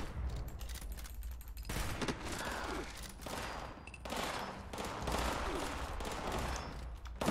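Rapid volleys of gunfire from the video game Fallout 76, dense bursts and shots packed together across the whole stretch with a brief lull midway, fairly loud and continuous.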